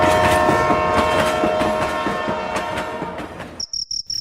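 A steady, loud train rumble with rhythmic clacking of wheels on rails fills the first part of a night scene in an animated horror story. It then fades and cuts to chirping crickets alone.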